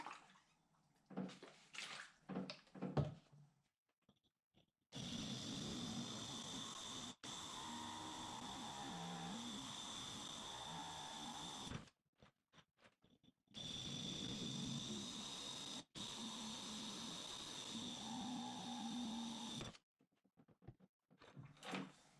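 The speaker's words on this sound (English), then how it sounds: "Just let the drill do the work, cut its way through." A drill cuts drainage holes through the bottom of a jade plant pot in two long, steady bursts of grinding noise, separated by quieter handling sounds and brief gaps.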